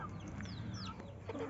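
Quiet, short clucks from an Aseel hen on a breeding farm. A few soft notes rise over a low background with no talking.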